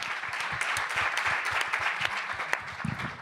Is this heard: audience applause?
yes